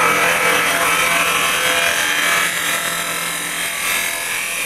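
Carbide cutter making a final light pass across a small wooden bowl spinning on a lathe, heard as a steady, close scraping hiss with a constant hum underneath, continuous for the whole stretch.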